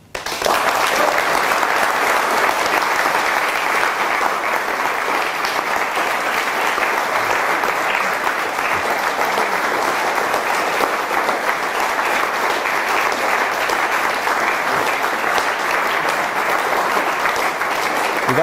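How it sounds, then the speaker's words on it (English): An audience applauds at the close of a lecture on the liberal arts, a thick, sustained wash of clapping that starts suddenly and keeps a steady, loud level for the full stretch without speech. "clapping because it's over."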